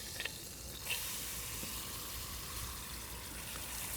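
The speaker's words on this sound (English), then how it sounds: "I'll just slap that guy right on top and allow these 3 to really sear and fry in that fat" Pork chops laid into hot rendered fat in a pot on high heat give a continuous soft sizzle and crackle, faint but steady throughout, with a few small pops.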